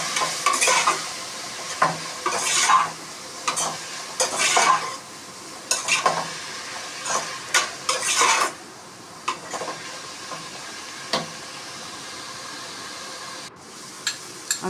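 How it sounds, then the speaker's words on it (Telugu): Flat beans stirred in a frying pan for a flat bean and tomato curry, with a steady sizzle under repeated scraping strokes and metal clinks from the utensil; the stirring is busy for the first half, then thins to occasional knocks over the continuing fry. "చిక్కుడుకాయలు కూడా యాడ్ చేసుకున్న తర్వాత ఒకసారి బాగా కలపాలి"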